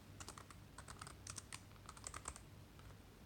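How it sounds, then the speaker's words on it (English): Steady typing on a computer keyboard as a reader's name is entered into a library management system, fast, light keystrokes in quick, uneven bursts, close and fairly soft. "and then start typing name"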